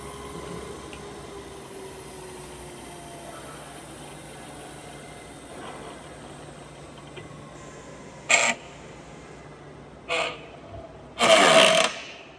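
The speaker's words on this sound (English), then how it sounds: "Spindle speed has been increased to 700 rotations per minute." The spindle of a FIRST LC-11/2VS vertical turret milling machine runs with a low, steady hum and faint mechanical whine, followed near the end by several short, sharp bursts of louder noise.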